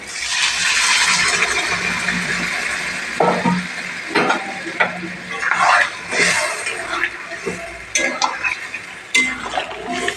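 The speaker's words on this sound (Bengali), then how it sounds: "এবার পরিমাণ মতো মাংস সিদ্ধ করার যে জল ঝোলটা দিয়ে দেবো" Meat broth pours into a pan where mutton and potatoes are frying, bringing a loud hiss and sizzle along with scraping stirs and clinks of a utensil against the pan.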